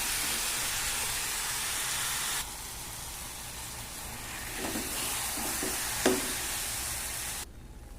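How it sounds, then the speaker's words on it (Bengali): Mango pieces frying in hot oil with salt and turmeric for a homemade pickle, giving a steady close sizzle with a few soft stirring knocks, the hiss dropping in level partway through. "নুন হলুদ দিয়ে আমটা ভেজে নিলাম"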